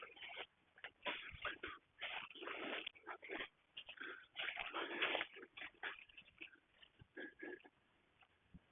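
A cow dog left behind at a shack whimpers and whines in repeated short bursts with uneven gaps, close by and fairly clear.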